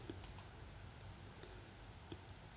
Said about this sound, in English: Okay, let me click on next.